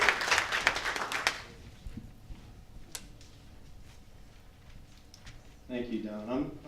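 An audience at a business community gathering claps as a speaker comes up, with a brief burst of applause that fades within a second or so before a voice begins speaking up close.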